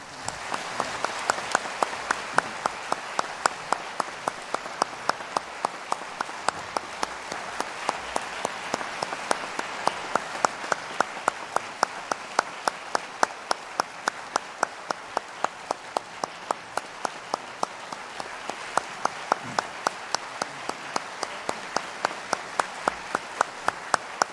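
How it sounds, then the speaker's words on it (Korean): A church congregation at a Sunday evening worship service claps in a long, steady rhythm, the even beats sounding moderately near over a soft background wash for over twenty seconds. "박수하겠습니다."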